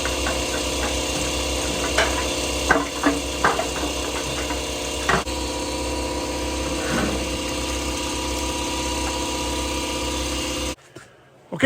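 A power drill bores a hole through a carbon fiber firewall with a steady motorized whine for several seconds, broken by a few scraping clicks, then cuts off abruptly near the end.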